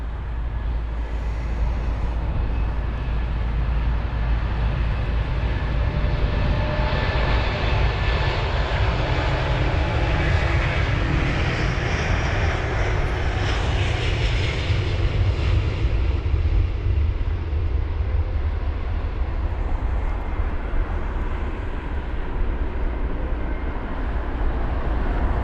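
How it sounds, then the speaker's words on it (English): A Delta Airlines Airbus A330-900 jet on the runway at London Heathrow gives a steady, loud, broadband engine roar that swells slightly midway and holds for the whole stretch, with no talk. "The A330-900 on the runway now is Delta Airlines flight number DL187 off to Los Angeles LAX"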